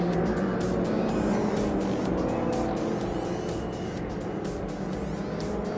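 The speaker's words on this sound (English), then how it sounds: "So the cars making their way now back to the pits of the Parc Fermé." MRF 2000 single-seater race cars drive slowly back to the pits after a race, a continuous loud engine drone that stays steady throughout, with rhythmic pulses as several cars pass.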